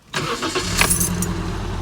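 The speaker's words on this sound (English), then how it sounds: "let's start her up" A 2012 Scion iQ engine cranks and catches, then settles into a steady, close idle hum.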